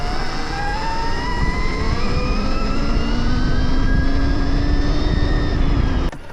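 A Stark Varg electric motocross bike in 20–30 horsepower mode, ridden hard with a steady rising whine and rushing wind and terrain noise throughout, cutting off abruptly at the end.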